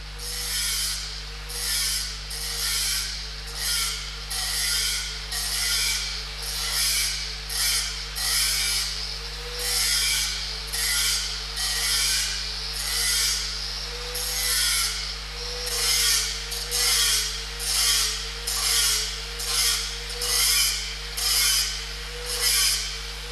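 Steady rhythmic strokes of a hand tool or grinder shaping a MIG tack weld on steel plate before a V-groove butt weld, repeating about once a second over a constant low hum, with no voices.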